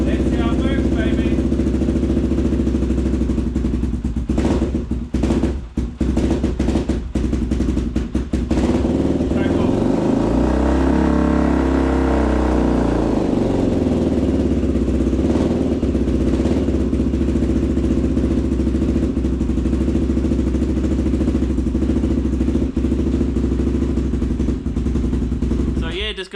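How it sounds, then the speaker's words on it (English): A 1999 Honda XR250R motorcycle engine runs loud and close, revving with an uneven, rough idle and clattering bursts through the whole stretch. "Just got to do it the correct way and she starts right up"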